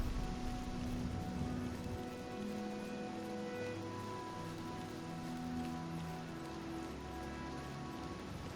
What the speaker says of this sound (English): I think we've now transitioned into a slightly different variety of rain, because it sounds different.